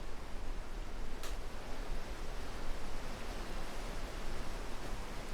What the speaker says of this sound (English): is the fan too loud?